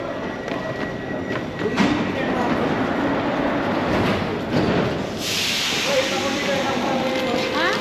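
A Paris metro train rumbles steadily close by, with a rising hiss of air partway through and faint voices in the background.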